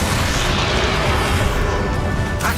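A loud, sustained magical blast of the Expelliarmus disarming spell in the Hogwarts Legacy final boss fight against Ranrock, a dense booming rumble like artillery fire that carries steadily without pause.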